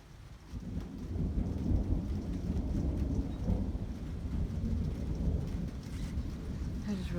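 Night thunderstorm with steady rain and rolling thunder, a continuous loud low rumble with rain hiss throughout, no voices.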